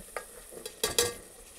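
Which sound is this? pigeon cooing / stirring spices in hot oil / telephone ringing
stirring spices in hot oil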